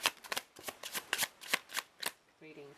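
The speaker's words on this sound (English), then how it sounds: "that was a messy shuffle" Tarot cards are shuffled by hand in quick, uneven riffles and slaps, about a dozen crisp card bursts close by. A brief voice follows at the end.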